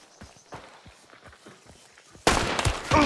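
Gunfire from the Hunt: Showdown video game, a sudden loud blast near the end, heard after a stretch of soft, quiet footsteps.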